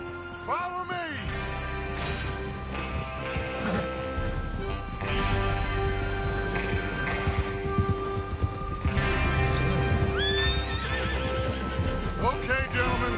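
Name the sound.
horses galloping in video game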